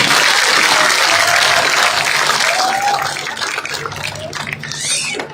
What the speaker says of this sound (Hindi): इसके लिए सबसे जोरदार तालियां होनी चाहिए।